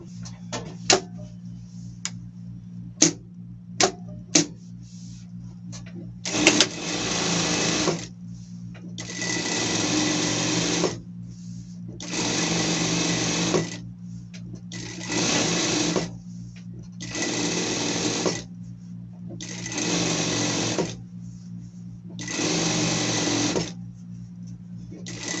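A sewing machine stitching a PET spring outfit runs in repeated bursts of whirring, each a couple of seconds long with short pauses between, close and steady after a few sharp clicks at the start, with no talking.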